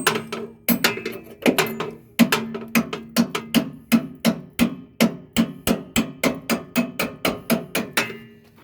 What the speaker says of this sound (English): One tap and that should pop right out.